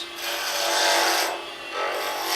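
A sharp gouge shaves a wooden pen blank slowly back and forth, giving a steady close rasping scrape in long strokes that swell and fade.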